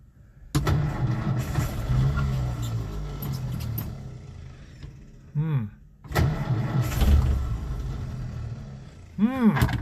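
A car engine with a fuel-delivery fault cranks and catches, idles roughly and close, then falters. Further start attempts follow, each with a rising whine, while a person speaks over it.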